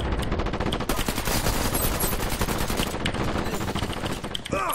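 Rapid automatic machine gun fire from an MG in the shooter game Dirty Bomb, a loud, dense rattle of close-range shots running almost continuously with brief shifts in intensity.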